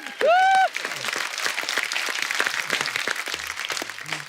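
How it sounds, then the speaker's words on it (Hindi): Studio audience applause on a comedy talk show, a sustained round of clapping that follows a brief loud tone and continues steadily at moderate level, with faint voices underneath. "जोरदार तालियां"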